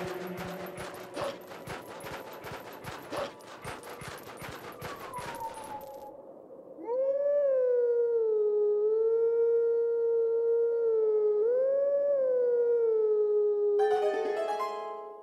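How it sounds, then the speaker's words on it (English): Wolf Link howls at the Howling Stone in the video game Twilight Princess: a long, loud, sustained tonal howl with a slight rise and dip, following a stretch of rapid clicking game sounds. "We'll just howl once to get ourselves out of this area"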